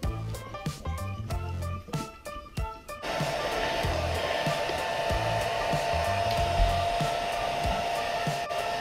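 A hair dryer drying a Boxer dog after a shower switches on after a few seconds of clicking and tapping, then blows with a steady loud whirring roar.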